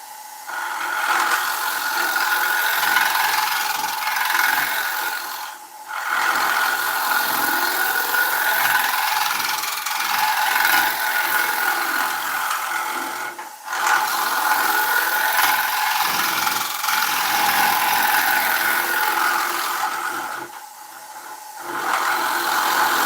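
A wood lathe spins at around 800 RPM while a wooden bowl with high walls is being turned, a steady loud whirring hum with a rough, gritty texture, briefly dipping a few times before resuming.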